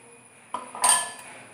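A spoon stirs rava cake batter with milk in a bowl, giving a few brief clinks and scrapes against the bowl in an otherwise quiet kitchen.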